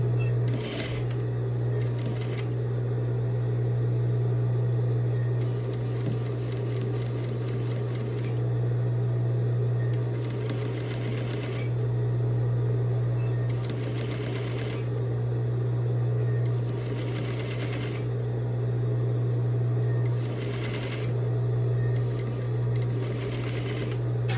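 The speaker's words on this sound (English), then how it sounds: "I'm going to line it up with the edge of my fabric and stitch at that 1/2 inch line" Sewing machine stitching bias tape onto fabric along a half-inch line, short bursts of fast needle chatter repeating over a steady low hum, with pauses between runs and occasional talk.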